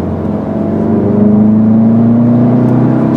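A 2013 Volkswagen Golf GTI engine holds a loud, steady drone with a rising tonal whine as it pulls, heard from close by with no voices over it.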